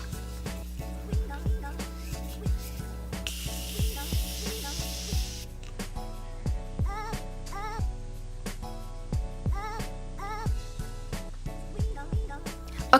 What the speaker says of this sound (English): I'm just gonna lock it all in place with some Morphe setting spray.